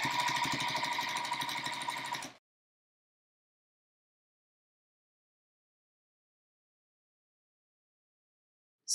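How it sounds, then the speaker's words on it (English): A sewing machine back stitches quilt binding in a brief close burst of fast mechanical chatter lasting about two seconds, then silence. "I'm gonna back stitch a little, but not a lot, because we're overlapping stitches anyway"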